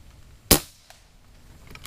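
A single sharp, close crack from a Umarex Gauntlet .22 air rifle, followed by quiet background.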